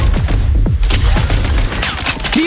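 Rapid gunshots ring out in the Genshin Impact video game, a quick string of loud, close cracks and booms packed into a couple of seconds.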